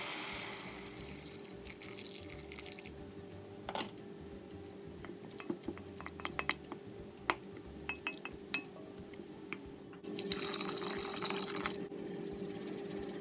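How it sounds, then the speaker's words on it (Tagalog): Water runs steadily from a tap into a pan of soy-sauce-seasoned pancit canton, with a few light metallic clinks and a louder gush near the end. "And lagyan ng tubig."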